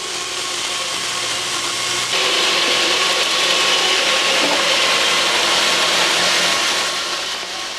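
A large sawmill saw runs with a steady whining, grinding roar, growing louder partway through as it bites into a stack of wood, then easing slightly near the end.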